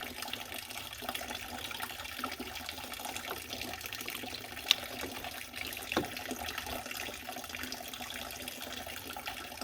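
Antifreeze coolant draining from a car engine, a steady faint trickling and splashing of liquid running into a container, continuous and quiet with a couple of small clinks.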